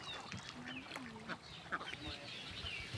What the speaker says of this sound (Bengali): এগুলোর নামই পাতি হাঁস।